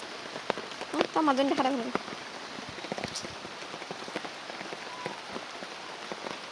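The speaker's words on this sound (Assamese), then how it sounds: "ডাঙৰ বৰষুণ এতিয়া কমিলেহে ডাঙৰ বৰষুণে আছে" Heavy rain falls steadily on a fish pond, a dense patter of drops heard close throughout, while a person speaks briefly over it.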